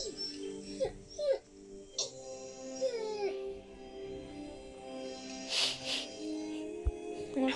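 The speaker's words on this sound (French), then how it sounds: "On entend chigner." A dog whimpers and whines in short, high, wavering cries, faint and intermittent over a quiet background with some low murmuring.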